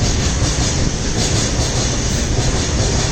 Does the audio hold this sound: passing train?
yes